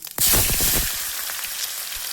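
Onions hit hot oil in a pan for a rajma curry, a sudden loud sizzle bursting in and then settling into a steady crackling fry, close and alone.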